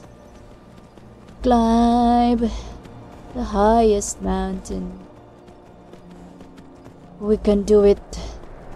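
Horse hooves clip-clopping in the Skyrim video game as a bandit horse climbs a mountain, steady hoofbeats underneath someone talking loudly.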